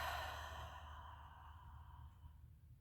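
A slow, deep breath let out during a guided breathing exercise, a soft airy sigh that starts fuller and gradually tapers off over a few seconds, close and quiet with no talking.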